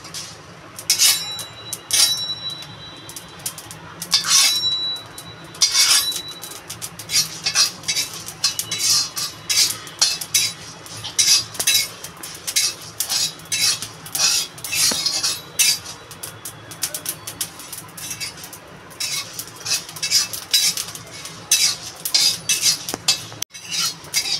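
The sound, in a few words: dry-roasting coriander and cumin in a wok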